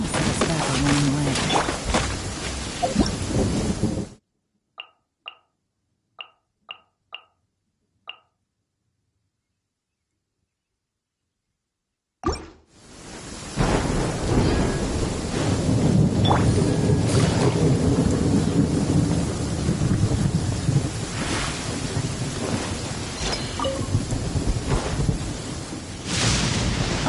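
A thunderstorm in the video game Genshin Impact brings heavy, continuous rain and deep rolling thunder, broken by a stretch of near silence with soft interface ticks before the loud downpour returns with a sharp crack.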